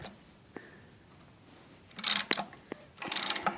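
Hand ratchet pressing a harmonic balancer onto an LQ9 V8 engine during a cam swap on a 1967 C10, giving a few sharp clicking bursts close by in a quiet workshop.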